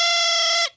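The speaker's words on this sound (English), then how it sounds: "This is called a thrump warbler." A thrump warbler, a silly cartoon instrument from Ben and Holly's Little Kingdom, plays one steady, bright, buzzy sustained note for about two-thirds of a second before cutting off abruptly.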